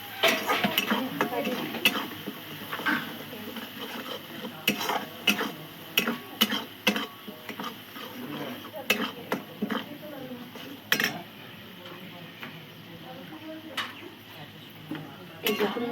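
Poppy seed paste and mustard paste sauté together in a pan for a rui fish malai curry, with a soft sizzle and repeated sharp scrapes and taps of a spoon stirring, while someone talks at intervals.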